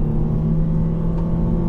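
A car's engine idles as a low, steady rumble, held near 2,200 RPM before pulling away from a standstill, continuous and close without a sharp rise.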